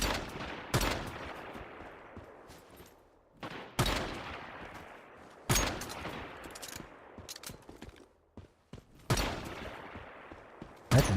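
Pistol fire in the online survival shooter Once Human during cross-server PvP: several sharp, loud shots at irregular intervals, each ringing into a decaying tail, with smaller clicks and impacts between them.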